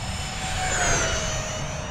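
An E-flite A-10 Thunderbolt II radio-controlled model jet with twin 64mm ducted fans streaks past fast over a grass field, a loud, steady whooshing whine with a slight pitch sweep.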